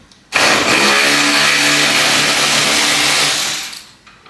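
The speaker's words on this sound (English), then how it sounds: "Now this cordless ratchet here I bought off eBay for about 30 quid" A cordless ratchet from eBay whirs loudly in one continuous burst of about three seconds while removing bolts on a damaged Ferrari FF V12, then stops.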